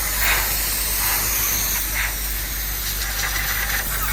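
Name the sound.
cleaner spray in Mercedes-Benz 450SLC engine bay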